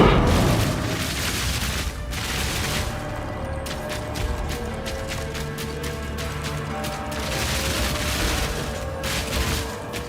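Rapid-fire crossbow shots in Path of Exile 2, a dense, steady stream of booming, crashing impacts and mechanical clatter running throughout, loud and close.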